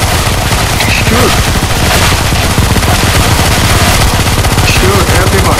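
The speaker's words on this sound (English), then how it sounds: "Keep shooting, guys. Shoot, shoot, shoot. Everyone, shoot." Dense, continuous gunfire from many weapons during a round of the CS:GO Zombie Escape mod on the ze_chaos_v7_4f map, loud and unbroken throughout with some voices buried underneath.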